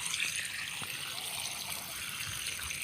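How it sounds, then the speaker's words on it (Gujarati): Water leaking from an irrigation pipe in a farm field, a steady close trickle and splash running throughout with no talk. "અહીંથી મિત્રો લીકેજ થાય છે પાણી, જો ઘણું બધું થાય છે."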